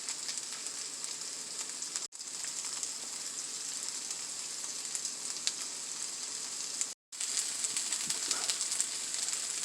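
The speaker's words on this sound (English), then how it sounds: "just let that fry up a while" Poor man hash with luncheon meat frying in a pan, a steady close sizzle and crackle that runs unbroken except for two brief gaps.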